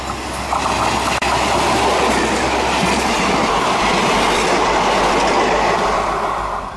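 The Amritsar-Jalandhar DMU express train running past, giving a loud, continuous rumble with rattling wheels and clattering carriages, close by and constant throughout.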